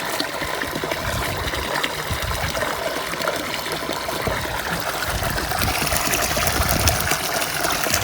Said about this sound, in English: Isn't it lovely, the sound of running water?